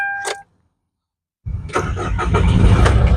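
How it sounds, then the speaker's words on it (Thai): After a short click and a second of silence, a 2012 Hyundai Grand Starex VIP engine cranks and catches close by, then settles into a steady, rumbling idle. "อ่ะเดี๋ยวตั้มติดเครื่องให้นะครับผม ขออนุญาตติดเครื่องให้ดูเลยนะครับ"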